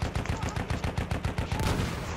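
An SMG in Battlefield 1 fires a rapid, evenly spaced burst of loud shots, about a dozen in two seconds, close and dominant.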